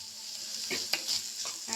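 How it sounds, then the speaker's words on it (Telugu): Food frying in a pan for a creamy sweet corn and cheese pasta with a little salt added, giving a steady close sizzle with a few scraping stirs; no talk. "ఫ్రై అయితే చేసేసుకుంటున్నాను"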